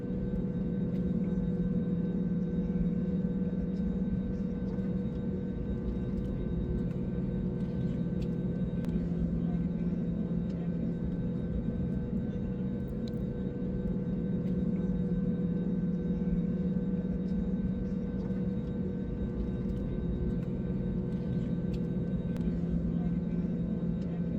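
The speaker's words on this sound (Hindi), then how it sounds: "रनवे पर प्लेन लैंड करने वाला है" An IndiGo airplane landing on a runway, heard from inside the cabin as a loud, steady engine roar and low rumble that holds unbroken throughout.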